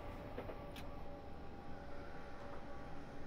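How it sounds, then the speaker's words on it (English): A down Brighton service train passing on the London to Brighton line, a low steady rumble with faint rail noise, distant and quiet throughout. "There's another train going by."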